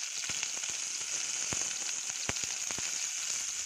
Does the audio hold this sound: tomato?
yes